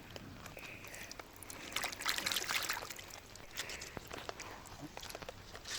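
Tap water runs and splashes over freshly harvested Chinese cabbage being rinsed in a garden, a steady close trickle with a brief louder gush in the middle and faint handling noises.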